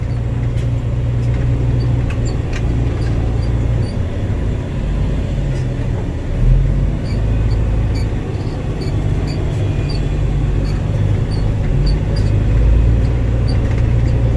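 A heavy vehicle, a T19J0595 unit, rolls over a gravel driveway, a loud, close, continuous low engine and road rumble with faint crunching and rattles on top, and no talk.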